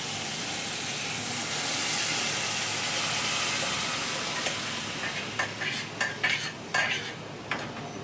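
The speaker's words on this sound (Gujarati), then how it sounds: "હવે આપણે એની અંદર જે બોઇલ કરેલી દાળ હતી એને એડ કરવાની છે." Boiled dal goes into a pan of sautéed onion-tomato masala and is stirred, with a soft sizzle at first, then a run of sharp spoon-on-pot clinks and scrapes close by.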